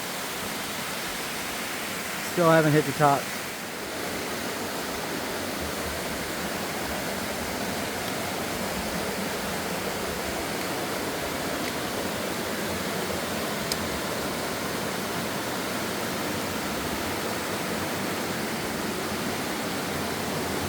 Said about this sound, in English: Still climbing up alongside the waterfall.